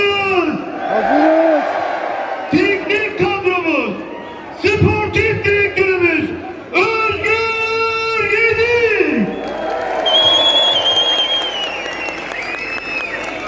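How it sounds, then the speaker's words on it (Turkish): A stadium crowd at a football club's 58th anniversary celebration applauds and cheers in waves, while an amplified announcer's voice booms out over the noise with loud echoing calls. "Alkışlar daha güçlü"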